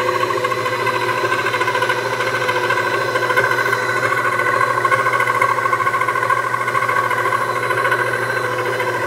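Edison stand mixer running steadily on its first speed with the mixing attachment, blending kahk dough; a continuous loud motor hum with a whining tone holds through the whole stretch.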